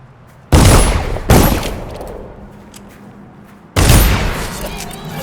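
Gunfire in the video game Dishonored comes as three loud, close booming shots, the first two about a second apart and the third after a pause, each trailing off in a short echoing decay.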